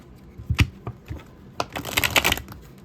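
Tarot cards being shuffled close up: a few separate snaps and flicks, then a quick dense riffle of crisp paper clicks.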